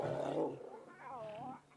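Lion cubs whine in high, wavering cries over a fresh kill by the Nkhuma lionesses at sunset, a short rising-and-falling whimper following a rougher, growly vocal burst, fairly faint and close.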